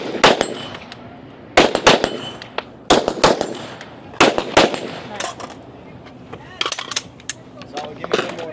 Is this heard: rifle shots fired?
yes